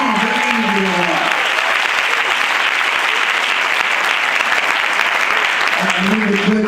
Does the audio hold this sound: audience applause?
yes